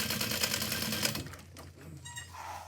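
Sewing machine stitching the center seam of a fabric convertible bag, a steady fast mechanical run for about a second and a half before it stops, followed by quieter handling sounds.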